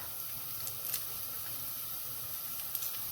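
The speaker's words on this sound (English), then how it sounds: "I'm just going to give my onions a stir. I can hear them sizzling." Steady, soft sizzling hiss of onions frying in a pan, with faint crackles and pops throughout.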